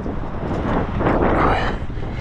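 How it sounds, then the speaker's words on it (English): Strong outdoor wind buffets the microphone beside a motorhome, a steady broadband roar that swells and gusts throughout with no other clear sounds. "It's quite windy today,"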